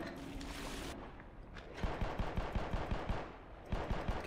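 Rapid automatic gunfire from the Black Mesa game cuts in partway through, a fast string of sharp shots that pauses briefly and then resumes, over a dense background of in-game noise.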